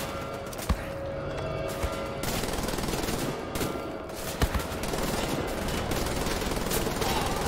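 A Gatling gun fires in a video game battle, a dense, relentless stream of rapid shots that runs loud and unbroken, with a few sharper bangs cutting through.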